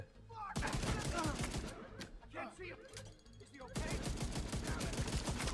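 Rapid bursts of rifle gunfire in The Division 2 shooter game, dense repeated shots crackling loudly with a brief lull midway, a voice faintly present under the shooting.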